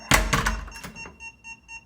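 A hotel room's electronic door lock on a second-floor room gives a solid thunk as the door opens, followed by a short series of faint, high, evenly spaced beeps.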